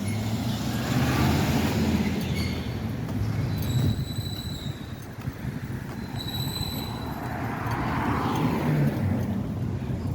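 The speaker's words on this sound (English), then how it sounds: "you see cars driving up and down this this stretch right here" Cars driving along a Boston street, a steady loud roar of passing traffic with tire and engine noise swelling and fading, plus brief high squeals and tones, with no talk.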